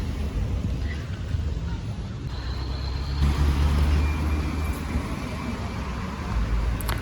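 Steady roar of street traffic outside a hotel in Kemer, Turkey, with vehicles passing nearby, a continuous low rumble swelling slightly midway, no talking.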